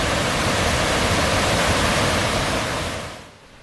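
Water pouring over the low-head dam on Ontario's White River, a loud, dense, continuous rush that fades away in the last half second.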